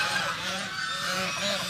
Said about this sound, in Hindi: अब सारी डक्स आ गई हैं मेरे पास इस साइड।